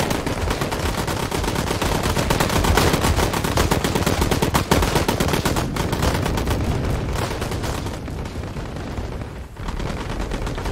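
Sustained heavy machine gun fire in the Call to Arms combat game, with American forces engaging anti-aircraft guns and heavy machine guns. Dense, loud, continuous bursts of shots with overlapping fusillades run throughout and ease slightly near the end.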